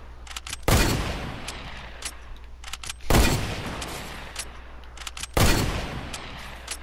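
Three loud, isolated gunshots in a build-battle shooter video game, each a sharp blast spaced a couple of seconds apart with a short decaying tail and faint clicks in between.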